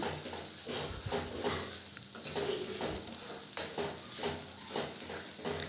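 Four cracked eggs fry with softened tomatoes and onions in a pan, making a continuous close sizzle with soft stirring scrapes throughout.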